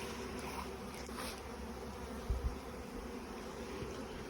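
Honey bees from a newly installed package hum steadily around a fresh hive, a continuous close buzz with a couple of soft thumps and no talk.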